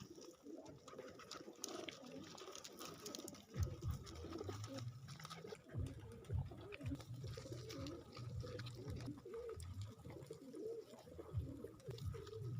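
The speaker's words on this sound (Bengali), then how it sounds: "আমি যদি কবুতরগুলোকে একটু কাছে নিয়ে দেখাই তাহলে হয়তো আরো সুন্দর দেখা যাবে।" Pigeons coo close by during feeding, giving soft, low, repeated cooing calls over a quiet background with faint watery sounds.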